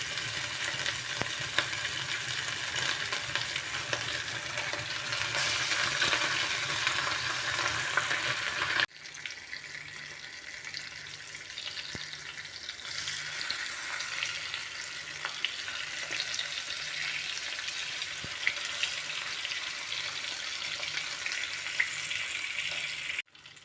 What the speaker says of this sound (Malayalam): എണ്ണ നല്ലതുപോലെ ചൂടായി വന്നിട്ടുണ്ട്. ഇനി നമുക്കതിലേക്ക് ഓരോ മീൻ വീതം ഇട്ട് കൊടുക്കാം.